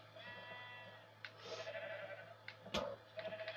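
A sheep in Minecraft on Xbox 360 bleats several times in short wavering calls, fairly close against a quiet steady background hum.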